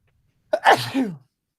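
A single loud sneeze bursts out close by, a sharp burst followed by a short trailing exhale, with silence before and after.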